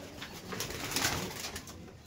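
Pigeons of the Andhra breed in a loft or market, cooing continuously at moderate volume with soft overlapping calls across the whole stretch and no voices.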